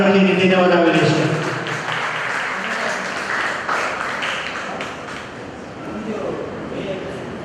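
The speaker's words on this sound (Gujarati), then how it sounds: "ખરેખર તો કહું છું ફરી એક વખત જોરદાર તાળીઓથી નિધિને વધાવી લઈશું." Audience applause at a community vocational guidance and aptitude test event in Mumbai, a crowd clapping steadily and fading gradually, with a voice speaking over it at the start.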